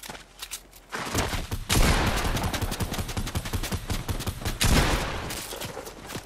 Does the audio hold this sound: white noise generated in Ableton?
no